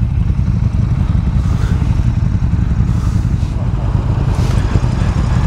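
Triumph Thruxton RS motorcycle engine on a ride, a steady loud low rumble mixed with heavy wind buffeting, continuous throughout without clear revving peaks.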